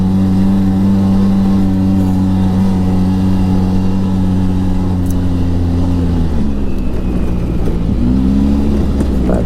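A 2012 Polaris RZR 800 S side-by-side accelerates in two-wheel drive, its engine droning loud and close with a steady rising pitch, then dipping and climbing again near the end.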